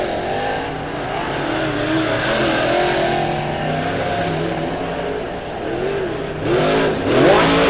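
Dirt track race cars at Lebanon Midway Speedway roaring past during a heat race, a loud continuous engine drone with rising and falling revs and passing sweeps, swelling as a car nears close toward the end.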